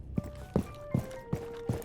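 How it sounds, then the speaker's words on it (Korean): Footsteps in the tactical shooter Rainbow Six Siege: five evenly spaced, muffled thuds at a steady walking pace, with faint tonal game sounds humming between them. "발소리 들리죠?"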